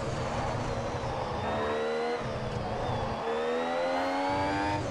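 Formula 1 car engines in the F1 Mobile racing game, on the Mexico circuit, whine at a high pitch, with rising gear-shift sweeps overlapping as several cars race close together in a continuous drone.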